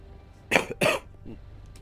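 Two sharp, close coughs in quick succession, followed by a faint throat noise, against a quiet background.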